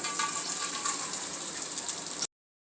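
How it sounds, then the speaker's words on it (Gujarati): Edible gum frying in oil over a low flame for vegan masala sukhadi, a steady close crackling sizzle that runs evenly and then stops abruptly. "અને ધીમા તાપે આ ગુંદ પહેલાં તળી લઈશું"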